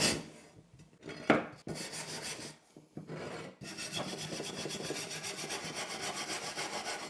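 Paint residue being scraped or sanded off wood during an old house renovation, a steady dry rasping that runs almost continuously, close and fairly loud, with a few brief pauses early on and no voices.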